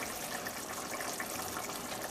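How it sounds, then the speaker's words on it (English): Curry chicken bubbles in a pot after the heat is switched off, a dense, steady close-up simmering hiss and gurgle without talk. "As you can see, I turned the heat off and it's still bubbling away."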